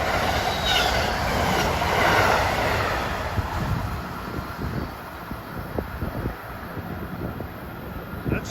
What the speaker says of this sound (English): 3866 from Trenton to New York is coming into the station.